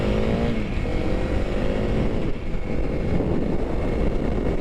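A 2021 Honda CRF300L motorcycle engine revs and accelerates loudly up close on a road ride, a rising droning whine with heavy wind rush and no speech.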